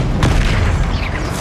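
A loud, full burst of the Incendio fire spell in Hogwarts Legacy: a deep whooshing boom with a sharp crackle near the start, then a sustained roar that fades slightly.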